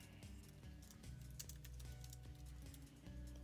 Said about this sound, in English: you're going to type in your survey question